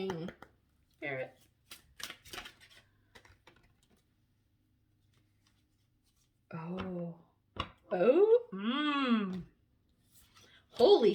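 Oversized tarot cards are shuffled in soft, papery bursts with quiet pauses between them, and a person talks and sighs around the shuffling.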